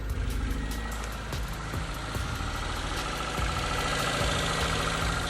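A Daewoo Sens car engine, just started after an exhaust pipe replacement, runs at a steady, rumbling idle close by, a continuous low throb with faint ticking and no speech.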